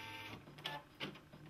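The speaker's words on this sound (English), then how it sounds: "And it just did a jump stitch." A Brother embroidery machine stitching a design runs with a soft, steady mechanical whir, with two quick clicks where it makes a jump stitch, faint and close.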